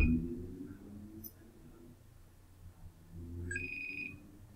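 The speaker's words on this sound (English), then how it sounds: "See, I'm calling her." A phone ringback tone sounds during an outgoing call, faint repeated tonal rings with a low hum and soft background voices underneath.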